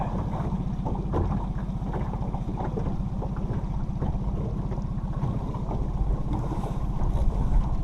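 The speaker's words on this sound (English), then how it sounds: "It's a little bit windy" Steady wind buffets the microphone with a low, constant rumble on the shore of Range Pond, and no voices are heard.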